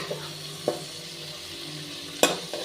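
Cooked bottle gourd mashed with a ladle in a pan gives a few soft scraping knocks of metal against the pan, spaced apart over a quiet sizzle.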